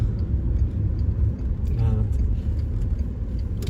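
A VW Phaeton with an Audi V6 engine gives a steady low rumble of engine and road noise from inside the car, continuous throughout, with a voice talking over it.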